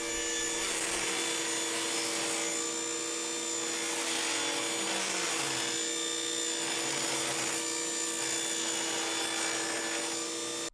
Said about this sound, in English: Here you can see I'm ripping thin strips of 3/4 inch pine that will serve as supports for the brackets